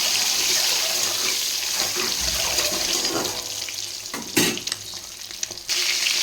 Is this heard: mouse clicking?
no